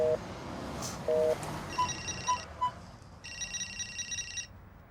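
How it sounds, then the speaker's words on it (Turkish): A telephone rings indoors in an office, giving short electronic beeps followed by repeated bursts of a higher warbling ringtone, loud and close. "önemli bir telefon geldi"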